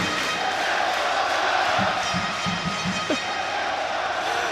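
Crowd at the Dota 2 Lima Major esports arena cheers and roars in a steady, dense wash, with a few claps and whoops rising through it.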